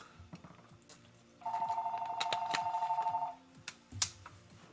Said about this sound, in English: I had the phone ringing for a second